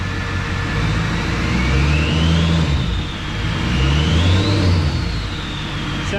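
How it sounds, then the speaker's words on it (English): An LLY Duramax diesel engine on its first start gets two steady revs. A turbo whistle rises and falls over the low engine drone, which stays loud and close. "Give it a couple revs here. She whistles really fast."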